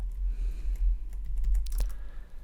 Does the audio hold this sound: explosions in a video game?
no